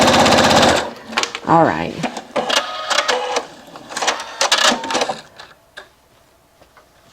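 A sewing machine runs gathering stitches through fabric in quick bursts with short pauses, under a person talking close by.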